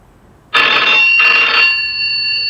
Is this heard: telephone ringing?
yes